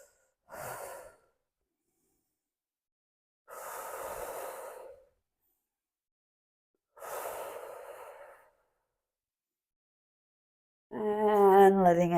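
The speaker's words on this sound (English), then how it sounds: "And 3 breaths through your nose." Three slow, deliberate breaths drawn and released through the nose during a hip and lower back stretching class, each a soft airy rush separated by long silences, ending with a brief voiced sound.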